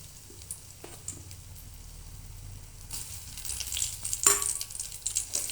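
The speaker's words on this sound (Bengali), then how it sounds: "এক এক করে ভেজে নেব।" Soybean chunks fry in hot oil for soybean manchurian, a steady close sizzle that swells louder and denser partway through as more pieces go into the pan.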